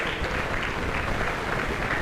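Applause at a school of engineering induction ceremony for the president of the Nigerian Society of Engineers, a loud, dense, steady roar of many hands clapping without a break and with no voices.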